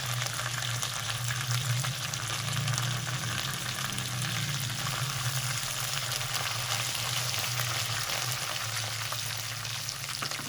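Garlic, curry leaves and white cumin fry in hot oil with a dense, steady sizzle and crackle, close and continuous throughout, with occasional stirring and no voices.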